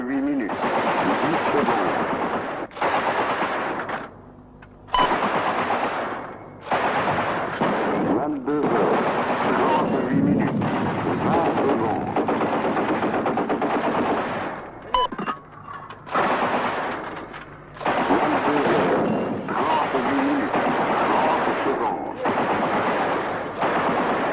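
Artillery shells fire and explode in the Western Sahara war as a loud, nearly continuous heavy rumble of booms, broken by a few brief gaps, with a muffled, band-limited quality.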